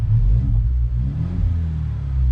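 A Ford Bronco fitted with an AWE catback exhaust rumbles as it drives, a loud, deep, steady low drone with slight swells, heard from close by.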